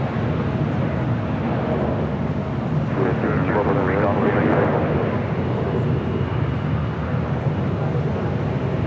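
A jet aircraft rumbles steadily at Los Angeles International Airport, a loud continuous roar swelling slightly mid-way, with voices talking over it.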